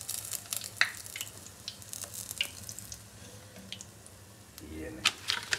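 Eggs fry in hot oil with a soft, uneven sizzle and a few sharp crackles, partly under a person talking.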